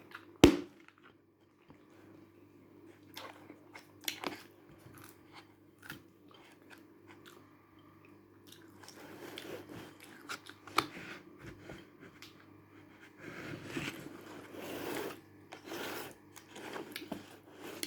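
Close, crunchy bites into sweetcorn eaten hands-free, followed by steady chewing with intermittent sharp crunches and rasping mouth noises, growing busier toward the end; no speech.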